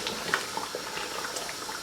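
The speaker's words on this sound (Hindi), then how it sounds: "जो यखनी है वो आप इसमें डाल देंगे।" Meat stock (yakhni) is poured onto cooking meat for anardana gosht, giving a steady, soft liquid splash and sizzle that lasts throughout at low level with no speech.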